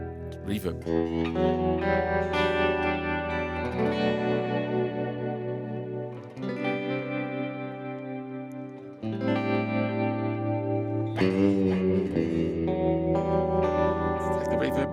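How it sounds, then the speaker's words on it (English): Chords on an electric guitar played through an Axe-FX FM9 ring out with heavy reverb, ringing and blooming between strums in a loud, steady spacious wash. "Give me more reverb."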